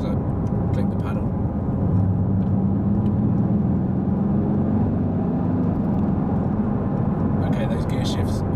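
A Mercedes AMG GTS engine droning loudly from inside the cabin, its tone rising steadily as it revs before dropping at a shift, with someone talking throughout.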